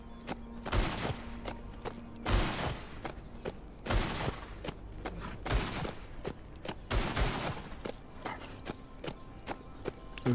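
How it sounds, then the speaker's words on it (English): A loud gun fires in the zombie survival game HumanitZ, sharp single shots at an irregular pace of roughly one to two seconds, each ringing out over a steady background of game ambience. "This gun is loud."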